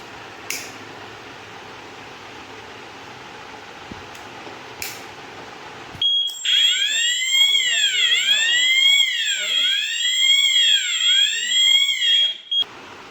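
A fire alarm hooter on a detector panel starts after a quiet stretch of faint room noise. It sounds a loud, continuous rising and falling electronic wail for several seconds, then cuts off abruptly.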